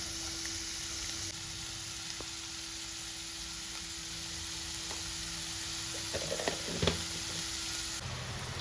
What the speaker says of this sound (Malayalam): ഉള്ളി റോസ്റ്റായി വരുന്നുണ്ട്